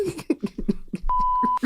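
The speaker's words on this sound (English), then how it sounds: "Leave a message after the beep." An answering machine beep sounds as a steady tone of about half a second, preceded by short clipped voice bursts.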